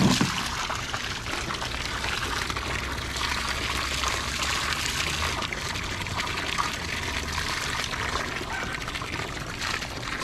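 Water gushes steadily from a hose during a water heater installation, a continuous splashing rush with no pauses and no voices.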